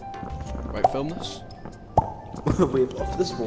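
Water dripping in the video game Content Warning: a few sharp plops land irregularly under continuous, fairly loud talking.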